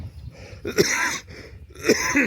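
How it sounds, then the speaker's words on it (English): Two sharp, raspy coughing bursts, close and fairly loud, separated by a short pause with soft breathing between them. "This cough comes and goes"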